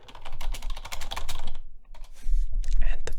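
Fast ten-finger typing on a computer keyboard during a speed test, a dense close flurry of clicking keys with a short pause before another quick run, and someone talking over it.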